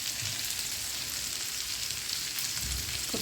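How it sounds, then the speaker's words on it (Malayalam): Fish and sliced onion frying in oil in a pan for a Kerala-style lunch, a continuous soft sizzle with faint crackle throughout, alone and fairly quiet. "മീൻ തിരിച്ചിട്ടതിന് ശേഷം കുറച്ച് ഇതുപോലെ ഉള്ളി ഇട്ട് കൊടുക്കുന്നുണ്ട്."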